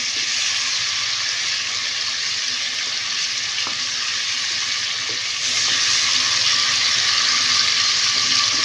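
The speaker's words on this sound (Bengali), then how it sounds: "হালকা ব্রাউন কালার করে ভেজে নিচ্ছি বেশি ভাজতে যাবেন না" Prawns fry in hot oil for a Bengali prawn malai curry, giving a steady, close sizzle that holds throughout with a few soft clicks of stirring. The sizzle grows a little louder toward the end, and no one speaks.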